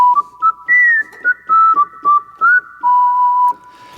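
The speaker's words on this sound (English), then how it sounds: "the keyboard player has to do the whistle part" A whistle patch on a Yamaha MODX keyboard plays the intro melody of a song, a bright, loud run of short whistled notes with gliding pitch ending on one longer held tone, heard alone.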